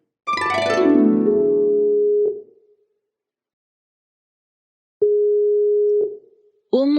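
A telephone ring tone sounds in long, steady bursts separated by silence, ringing on with no answer.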